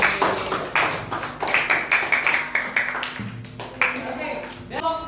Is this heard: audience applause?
yes